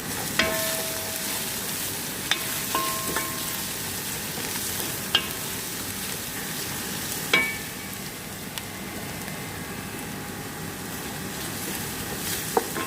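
Onions with garlic cooking in a pan for Saudi-style kabsa chicken, a steady soft sizzle with occasional small clicks and pops from stirring, close and continuous throughout.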